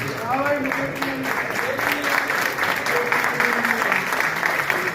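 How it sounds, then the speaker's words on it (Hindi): Sustained applause from an audience at an honour ceremony, steady and dense throughout with voices faintly mixed in. "तालियां निरंतर बजती रहे।"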